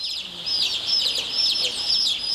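Many laying hens housed on an egg farm give a dense, continuous chorus of high clucks and chirps, loud and close, with no other sound standing out.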